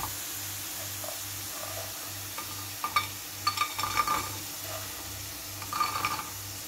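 Potatoes frying in a pan, a soft steady sizzle with scraping and stirring clatter against the pan, fairly quiet and close.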